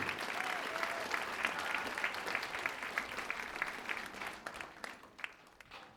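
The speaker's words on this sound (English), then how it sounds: "Let's give one more round of applause." A concert audience claps in a long, dense round of applause for a high school performer, steady and full before thinning into scattered claps near the end.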